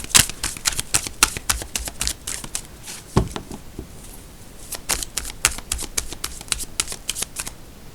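Tarot cards handled and shuffled close up, a steady run of crisp riffling and flicking bursts with a short pause near the middle, no voice.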